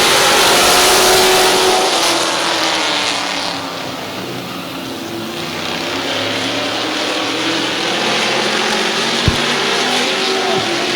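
Race cars roar past at Midvale Speedway, a loud, dense wash of engine noise that swells and fades slightly as the pack moves, with a brief sharp knock near the end.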